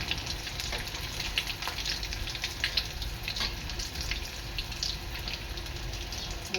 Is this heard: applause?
no